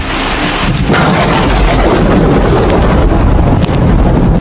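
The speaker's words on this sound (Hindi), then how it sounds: "बादल बहुत जोरों से गरज रहे थे।" A loud, deep rumbling roar rolls on without a break, like close thunder mixed with gusty wind buffeting.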